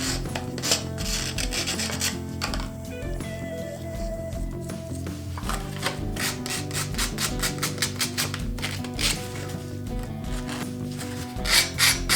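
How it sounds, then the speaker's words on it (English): Sandpaper is rubbed over the sharp broken edges of pottery pieces, a close, rasping scrape repeated in quick strokes with short pauses between bursts. "sand with sharp edges on both sides of all the pieces with sandpaper"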